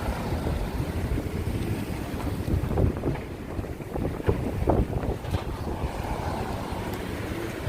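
Wind gusts across the microphone on Eighth Avenue in Midtown Manhattan, New York, producing a constant low rumble and buffeting with faint, indistinct street noise underneath.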